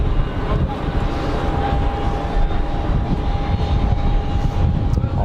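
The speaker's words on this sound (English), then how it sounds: "Ryanair just came over me." A passenger jet passes overhead at Geneva Airport, giving a loud, broad engine roar that fills the whole stretch. A thin steady whine sits on top of the roar, and wind noise is mixed in. No one speaks.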